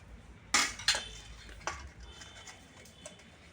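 A utensil mixes raw garlic into fenugreek dal in a pot, giving a few sharp metallic clinks and taps spaced irregularly against a quiet kitchen background.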